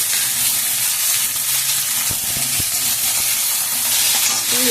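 Sliced ridge gourd and potato fry in a pan for jhinge posto, giving a steady, close sizzle and hiss with a few soft stirring scrapes and no talking.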